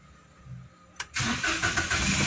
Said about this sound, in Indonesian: Kita nyalakan mesinnya.